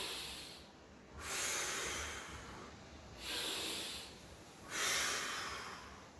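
Three slow, audible breaths during a workout stretch, each a soft airy rush of exhaled air swelling and fading, close and alone with no talk.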